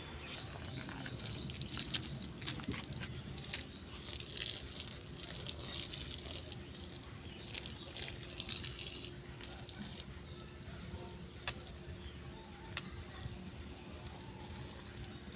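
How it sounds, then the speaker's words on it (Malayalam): Water poured steadily onto potting soil mix in a container, giving a continuous soft splashing hiss that stays even and close throughout. "ഈ മണ്ണ് ഒന്ന് നനയ്ക്കണം"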